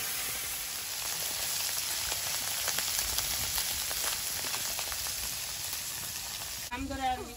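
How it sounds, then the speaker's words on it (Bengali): Several kinds of fish rubbed with salt and turmeric frying in hot oil in a wok, a dense continuous sizzle with crackling pops throughout, ending with a short spoken voice. "বাকি মাছগুলো ভেজে নেব।"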